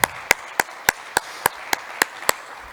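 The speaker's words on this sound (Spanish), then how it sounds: "Fuerte aplauso." Hand clapping welcoming panelists onto the stage at a round-table event in Burgos: nine sharp, evenly spaced claps in a steady rhythm, close and distinct, with no talking.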